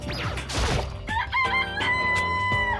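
In Danganronpa, a rooster's crow rings out clearly, a rising, wavering call over a steady bed of game music, with scattered clucks and thumps around it.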